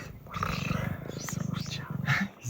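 An old cat on the Canary Islands purrs up close in rapid rhythmic low pulses, with whispering and talk over it.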